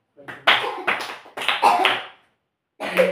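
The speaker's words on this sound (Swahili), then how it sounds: "okay joy mpigieni makofi" Applause for Joy, a child among other children, in a few short bursts of clapping and tapping, fairly close, stopping briefly before resuming. Voices can be heard mixed in with the clapping.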